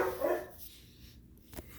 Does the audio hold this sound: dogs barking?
yes